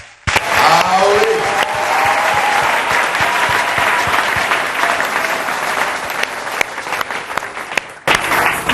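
A church congregation applauding and cheering at a service, dense sustained clapping and crowd noise filling the space loudly for several seconds, a few voices rising over it, then a brief dip before the applause resumes.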